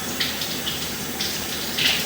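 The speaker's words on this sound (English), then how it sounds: "I'm going to run some water here." Water runs steadily from a tap into a drain during drain clearing, a constant hissing splash with small bubbling spurts.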